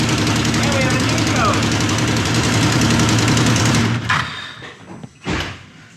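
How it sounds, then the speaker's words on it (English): Can-Am engine idling with a major exhaust leak, a rough ticking, knocking rumble running steadily for about four seconds before cutting off, followed by a couple of clunks. "There's a major exhaust leak up front I'm gonna have to dig into."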